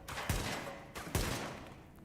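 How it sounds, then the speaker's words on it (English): Gunfire in the video game The Division striking paint cans, two sharp loud shots about a second apart, each trailing off in a long ringing decay. "What I always love here is you can shoot these paint cans."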